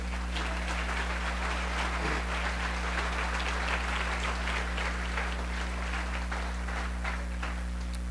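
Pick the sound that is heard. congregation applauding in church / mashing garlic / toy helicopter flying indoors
congregation applauding in church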